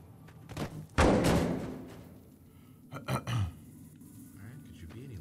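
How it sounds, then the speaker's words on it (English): A barrel in the game Fallout New Vegas gives a loud thud, one sharp heavy hit followed a couple of seconds later by a few softer knocks. "There's a loud thud from the barrel."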